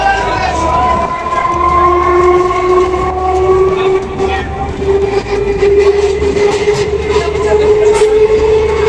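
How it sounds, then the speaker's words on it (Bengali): A train running on the Barasat to Hasnabad rail line through villages, with a loud, steady rumble and a long, sustained horn sounding for several seconds, heard close and continuous. "গ্রামের মাঝে দিয়ে রেল লাইন চলেছে হাসনাবাদের দিকে।"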